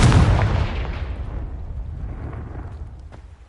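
A booming fire-spell explosion in the video game Hogwarts Legacy bursts loudly at the start, then rumbles and fades away over a few seconds.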